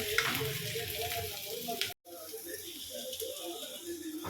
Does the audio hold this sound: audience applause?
no